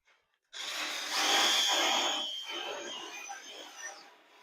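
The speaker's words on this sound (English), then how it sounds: "I find that a steel wire brush works pretty good for this on a drill." Steel wire brush spinning on a drill, grinding rust off the metal legs of a welding table: a harsh, steady whine and scrape that starts abruptly, stays loud for several seconds, then eases slightly, with no talking.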